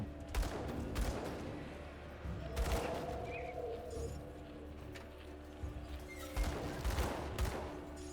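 Several bursts of shots from a character firing at a gate in the action RPG Grim Dawn, spaced a second or two apart over a low, quiet game ambience.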